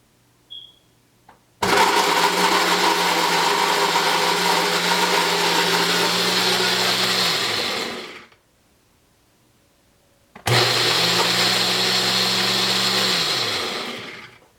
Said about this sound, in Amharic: አሁን ይከደንና ይፈጫል ማለት ነው።